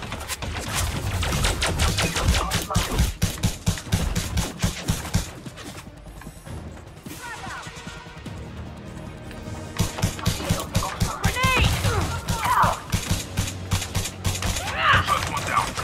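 Gunfire and a grenade blast in a shooter video game: rapid loud bursts of shots, a lull with a booming explosion and rumble midway, then renewed firing.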